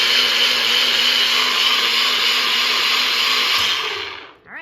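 Tomatoes, avocado, red onion, lemon and a squeeze of orange churn under a loud, steady motorized whir that runs unbroken, then winds down and stops near the end.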